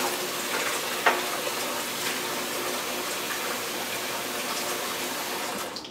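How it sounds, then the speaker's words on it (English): A water tap runs steadily into a sink filling with water, a constant close hiss and splash with a small knock near the start and no talk over it. "I'm going to turn the water off so you can hear me for a second."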